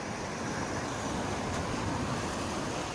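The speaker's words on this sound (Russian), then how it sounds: "Море подуспокоилось по сравнению со вчерашним, но по-прежнему мутное." Black Sea surf at Sochi washes in a continuous broad roar, steady and moderately close, with no voices over it.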